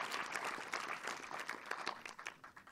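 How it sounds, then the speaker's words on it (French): An audience applauds the youth jury at a film festival awards ceremony, a steady wash of many hands clapping at moderate distance, fading slightly toward the end. "vous pouvez tous les applaudir"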